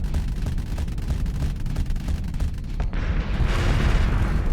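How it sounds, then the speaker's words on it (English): Torpedo fire in a Starsector space battle: a dense run of rumbling booms and heavy thuds, loud and continuous, swelling into a fuller roar near the end. "as soon as he comes out, they will shoot him with their torpedoes"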